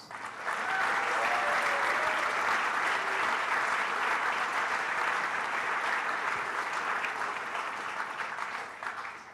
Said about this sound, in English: let's give a huge round of applause for all our sponsors